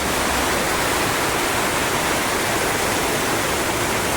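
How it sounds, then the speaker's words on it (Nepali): Heavy monsoon rain falls on Kalimpong in a steady, dense, loud roar of rushing water with no pauses, filling the whole scene without any talk. "हेभी पानी परिरहेछ"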